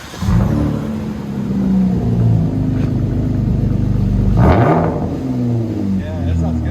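Exhaust of a 2019 Ram 1500 pickup with the 3.6L V6 and Dynomax Race Bullet resonators, giving a steady deep rumble that swells into a louder rev near the middle, with people talking over it.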